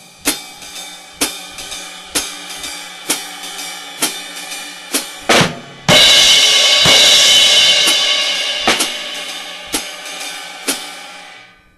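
A drum set plays a jazz time pattern, with regular sharp cymbal and stick strokes keeping steady time and a loud crash wash after a brief fill midway. The kit is close and clear, with no voices.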